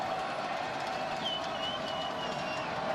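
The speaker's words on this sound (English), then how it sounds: "Not that the crowd isn't big, but it's certainly loud." A loud crowd in a college football stadium, Buffalo versus Northern Illinois, a steady roar of cheering and noise that goes on without a break, with a faint whistle in the middle.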